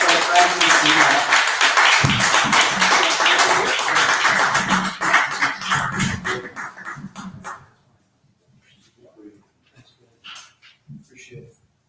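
Warm audience applause for a poet at a poetry festival in a Hoboken museum, steady dense clapping for about seven seconds before tapering off, followed by someone speaking alone.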